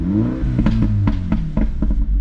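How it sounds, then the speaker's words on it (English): A 2017 Mini Cooper S F56 with a JCW exhaust blips its revs up and down, with sharp crackling pops and bangs from the exhaust, loud and close. "It's that wonderful JCW exhaust."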